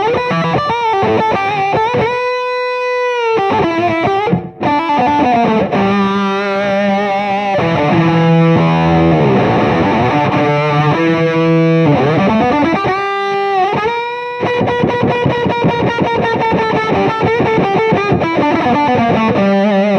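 An electric guitar runs through a fuzz pedal switched in on a Boss MS-3 effects switcher, giving a thick, saturated, sustaining tone with bending melodic lines and a couple of brief breaks, loud and continuous with no speech.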